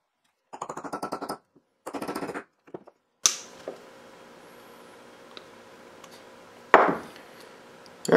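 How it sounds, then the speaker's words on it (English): A hammer taps a punch in a few sharp metallic taps, each ringing briefly, separated by pauses, preceded by a short burst of rapid mechanical rattling, during Triumph Spitfire restoration work. "I'm just going to take a little punch and the hammer"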